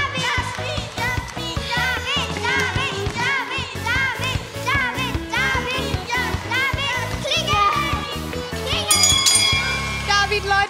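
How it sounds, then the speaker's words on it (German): A bell rings at the finish of a children's climbing race on a kids' TV show, heard briefly near the end over loud, continuous cheering, music and children's voices. "Die Glocke."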